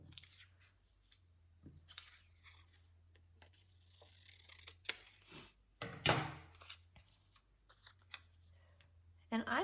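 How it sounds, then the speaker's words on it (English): Scissors snip through black paper rectangles, cutting them into legs for a paper lamb craft; soft, irregular clicks and snips sound close but quiet, with occasional voice in the background. "I'm going to take the 2 black rectangles and I'm going to cut them each into 2 legs."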